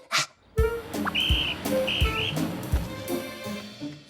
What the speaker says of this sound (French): On dirait un bruit de sifflet.